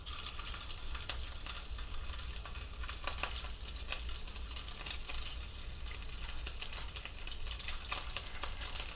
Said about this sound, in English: now we're going to start by pan frying our Italian sausage